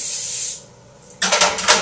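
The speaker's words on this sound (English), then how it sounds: "I'm just going to spray them with the olive oil spray" Olive oil cooking spray hisses into a cupcake pan in a few quick, close bursts after a brief quiet pause.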